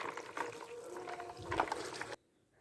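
Ginger and garlic are swished and rinsed in a bowl of water, giving a continuous close sloshing and gurgling for about two seconds before stopping abruptly into silence.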